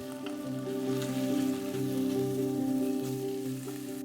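Carrot, mushrooms and tofu sautéing in olive oil in a pan, giving a steady, moderately loud sizzle and crackle that holds throughout with a faint tonal hum underneath and no talking.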